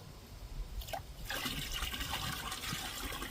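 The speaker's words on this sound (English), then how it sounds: "We'll pour it in with the other clay." Wild clay slurry poured from a bucket into more clay during processing, a soft liquid splash that starts about a second in and continues as a steady, faint pour.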